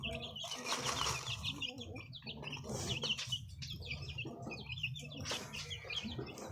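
Young chicks, about a month old, chirp in a rapid stream of thin high peeps, close and continuous, with some fluttering and rustling underneath.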